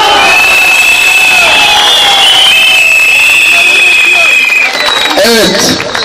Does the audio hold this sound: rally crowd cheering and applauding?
yes